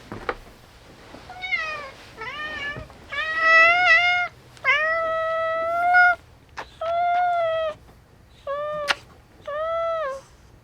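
A cat meows repeatedly and insistently, about eight clear cries of varying length spaced across the stretch, close and prominent over a quiet room.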